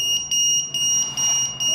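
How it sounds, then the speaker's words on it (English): A buzzer on a fire fighting robot beeps in a steady run of four shrill, high-pitched tones, close and fairly loud, separated by short gaps. "After there will be beep from this buzzer and this LED"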